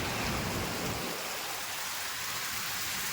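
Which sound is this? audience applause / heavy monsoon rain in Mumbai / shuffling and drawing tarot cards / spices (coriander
heavy monsoon rain in Mumbai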